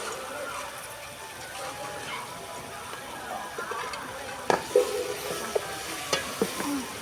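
Goat tripe (boti) frying in a pan while being stirred, a steady soft sizzle with occasional sharper scrapes and clicks of the spoon, recorded close up outdoors amid a gathering of friends.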